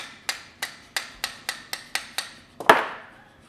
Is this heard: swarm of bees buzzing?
no